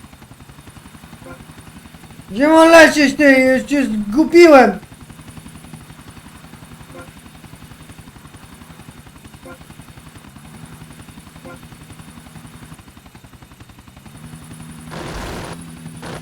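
A steady low mechanical drone of a flying helicopter with a rhythmic rotor pulse runs throughout, interrupted by a burst of excited shouting and a brief noisy click later.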